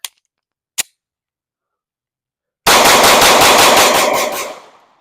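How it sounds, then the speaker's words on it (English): A Glock pistol fires a rapid burst of about ten sharp, loud shots in quick succession after two brief clicks and a pause, the last report ringing out and fading. "Let's see how quick it is. I haven't tried how quick this gun is."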